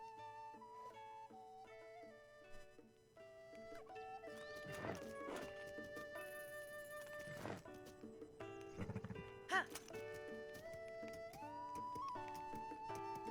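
A horse's hooves clip-clop and it neighs in the video game Zelda: Tears of the Kingdom. Hoof beats and whinnies sound over soft, sustained game music tones, all fairly quiet.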